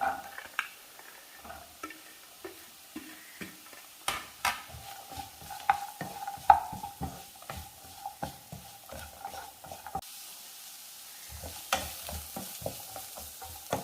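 Chopped carrot stir-fried in a pan with wilted broad beans and crushed dried chilli, a steady close sizzle broken by frequent scraping stirs and light clicks of a spatula against the pan.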